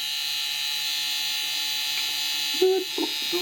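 A Chevrolet school bus's door-open warning buzzer, triggered by the open back door, drones steadily and continuously throughout, with a few brief clunks and a short tone near the end.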